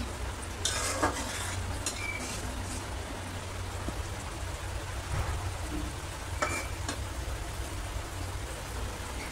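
Fish frying in a pan sizzles steadily while a utensil scrapes and stirs it, with a few sharp metallic clinks scattered through the continuous hiss.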